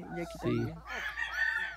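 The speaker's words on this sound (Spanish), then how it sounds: "Este sí es un machito azul mirlo." A young blue-grey azul mirlo rooster clucks and makes short throaty calls close by, with someone speaking over and between the calls.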